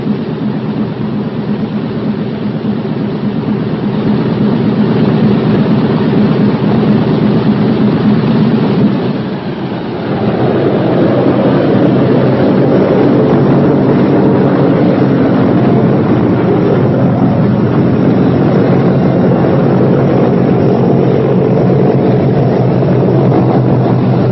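Boeing B-17 bomber engines roar steadily and loud, a dense sustained drone that dips briefly, then swells again as they are run up before shutdown.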